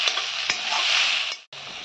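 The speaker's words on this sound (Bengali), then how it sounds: "টমেটো একটা দিয়েছি। ভালো করে কষাতে হবে।" Tomato and spices sauté in a pan, a loud dense sizzle with a couple of stirring clicks, cutting out briefly near the end before resuming.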